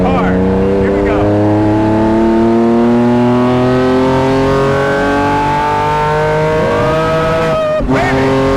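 Straight-piped Lykan Hypersport accelerating hard on a race track, a loud engine climbing steadily in pitch through a long pull, with a brief shift and renewed rise near the end, heard from close up.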